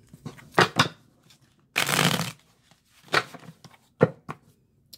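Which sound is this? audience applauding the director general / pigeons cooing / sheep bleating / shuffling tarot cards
shuffling tarot cards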